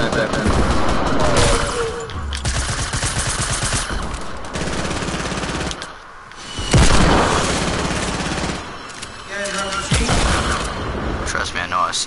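Video game gunfire in dense, rapid bursts, automatic weapons and heavy booms layered throughout, with a player's voice talking over the shooting.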